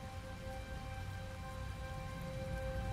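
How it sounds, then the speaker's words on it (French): Steady, dense rain pours down continuously, with a faint constant hum running underneath. "sous une pluie battante."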